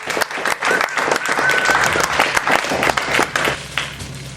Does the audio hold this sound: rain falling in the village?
no